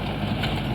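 A tractor engine drives a rotavator through a farm field, giving a steady, loud, unbroken drone close by with no talk.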